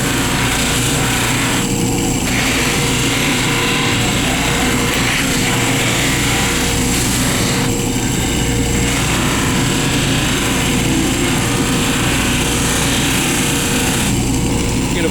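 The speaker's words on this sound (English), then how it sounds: "Hit our wheel with some compound. I want to see a nice shine," A buffing wheel loaded with compound polishes a chef knife, giving a loud, continuous motorized whir with periodic shifts in pitch as the blade is pressed against it, with no talk.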